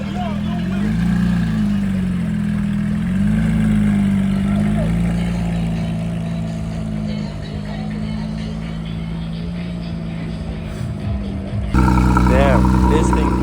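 A car engine rumbles loudly at close range, holding a steady drone, then surging sharply higher near the end as it revs.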